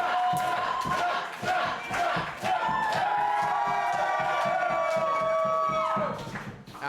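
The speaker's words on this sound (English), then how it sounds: "Just listen to the crowd." Crowd at a long sword tournament roars and cheers loudly and continuously, with shouts rising and falling over the whole stretch before easing off near the end.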